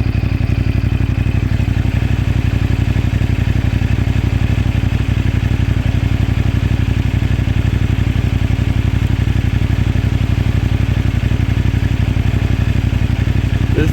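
A CFMoto 450NK motorcycle engine while riding, a loud, steady, low throbbing drone with a constant pulse and wind rush for the whole stretch, with no talk.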